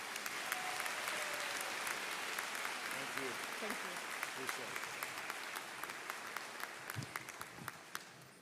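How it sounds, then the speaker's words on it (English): Applause fills the 2022 Brown Deer High School graduation ceremony as the commencement speaker is welcomed, a dense, sustained clapping from a large audience with scattered louder claps and a few faint voices, easing slightly toward the end. "our commencement speaker, Dr. Brandon Curry, a warm round of applause."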